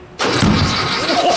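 A rotten old 1956 VW Beetle engine cranks loudly and steadily on a first start attempt, a continuous starter grind that begins abruptly and does not catch.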